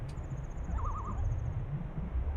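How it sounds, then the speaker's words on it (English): A bird calls in the nighttime ambience of a Nintendo video game, a thin high sustained trill with a short warbling call beneath, set over a steady low ambient rumble with no talk. "why can I hear birds so clearly this far underwater?"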